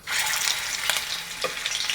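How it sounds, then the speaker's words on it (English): Meatballs sizzle and crackle steadily in hot oil in a pan, with a few sharper pops as they touch the hot surface, close and fairly loud, no talking. "take a meatball and just touch the edge and see if it sizzles"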